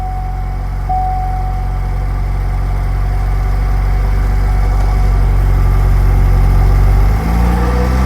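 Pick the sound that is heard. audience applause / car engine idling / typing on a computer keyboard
car engine idling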